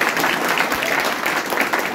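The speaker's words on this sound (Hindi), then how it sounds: "एक बार जोरदार तालियों से स्वागत करें।" Audience at a student felicitation ceremony for final bank-exam selections applauds steadily, a dense continuous wash of clapping throughout with no voices.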